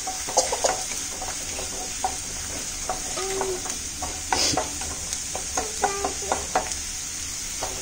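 Rava is dry-roasted in a pan for rava idli: a spoon scrapes and stirs the grains in repeated irregular strokes, with a faint steady sizzle underneath and no talking.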